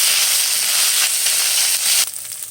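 Dried chillies, bay leaves and whole cumin sizzle in hot oil, a loud, close, steady hiss of frying spices that shifts briefly near the end.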